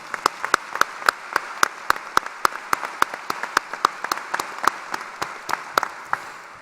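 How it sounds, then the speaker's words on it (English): A graduation audience at a technical center applauds, with sharp, dense clapping and bright individual claps standing out across the crowd, steady and fairly close for the whole stretch. "Let's give our graduates one more great big round of applause."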